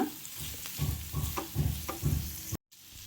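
A vegetable peel and grated coconut mixture is stir-fried in a pan, with a spatula scraping in an even rhythm of about five strokes over a soft sizzle, close and fairly quiet, with no talking.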